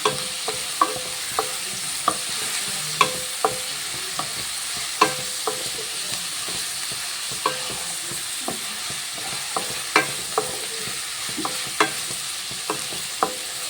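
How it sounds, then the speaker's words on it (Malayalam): Ginger and garlic sizzle steadily in a pan for chicken curry while a spoon stirs and scrapes, giving a regular run of sharp clicks against the constant close frying hiss. "ഇനി നമുക്ക് നല്ലപോലെ ഇളക്കി കൊടുക്കാം."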